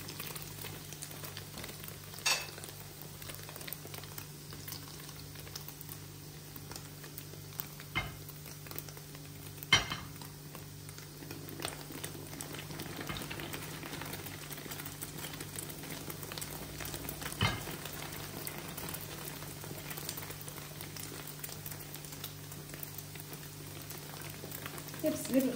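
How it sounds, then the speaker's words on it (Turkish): Steady bubbling sizzle of dough frying in hot oil over medium heat, a continuous hiss with occasional small pops and clicks, moderately quiet throughout. "Hepsini bir kızartmada kızartalım."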